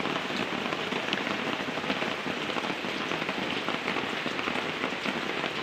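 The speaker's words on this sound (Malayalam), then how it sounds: "മഴ ചാറിയും കൊണ്ട് നിൽക്കുക പോയിട്ടില്ല ചാറിയും കൊണ്ട് ഇങ്ങനെ നിൽക്കുക" Steady patter of light rain falling on a surface, a continuous soft hiss with scattered drops, no voices.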